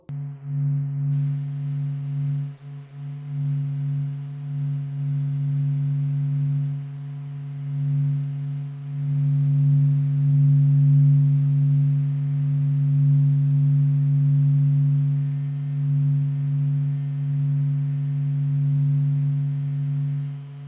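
Sunlight converted into sound: a steady, low electronic hum with layered pure tones drones continuously and evenly, eerie and unbroken, with no voices.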